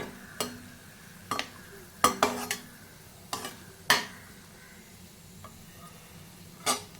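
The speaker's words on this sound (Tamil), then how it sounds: "இப்போ இந்த முந்திரி திராட்சை ரெண்டும் நல்லா பொறிஞ்சு வருது பாருங்கள்" Cashews and raisins fried in ghee in a pan for aval kesari, heard as a series of sharp scraping stirs and clinks against the vessel over a low sizzle, with quiet gaps between strokes.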